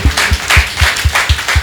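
Audience applause at a ceremony in a library in Porto Novo, heard as rhythmic, fairly loud clapping with regular bursts throughout, no voices over it.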